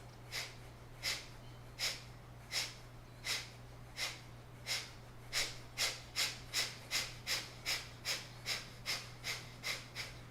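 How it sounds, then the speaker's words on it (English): Kapalabhati yoga breathing: about twenty sharp, forceful nasal exhales in a steady pulse that quickens partway through, close and clear over a faint low hum. "Finish with some Kapalabhati breath, forceful exhales."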